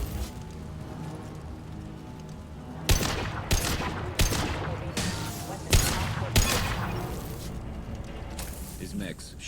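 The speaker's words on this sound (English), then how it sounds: "His mechs shoot without question." Gunfire from combat mechs in Mass Effect 2: several loud bursts of shots crack out in uneven clusters over a steady rumbling game background, close and sharp.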